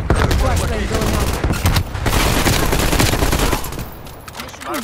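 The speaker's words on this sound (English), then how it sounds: "Throwing grenade. Flashbang going up." Dense gunfire and explosive bursts from a Call of Duty Cold War Hardpoint match, with a flashbang and grenades going off amid continuous loud shooting and a voice calling out in the game.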